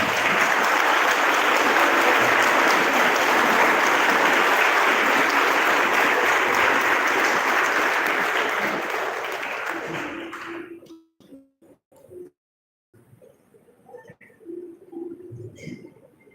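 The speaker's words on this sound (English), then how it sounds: "Please give them a big round of applause." Audience applause at an inter-school English debate competition, a loud sustained round of clapping for roughly ten seconds that then fades, leaving scattered faint sounds and light background noise.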